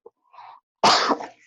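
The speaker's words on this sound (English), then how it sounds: "I'm going to have to cough again just a minute." A single harsh cough bursts out loudly after a couple of faint breathy sounds, close and brief.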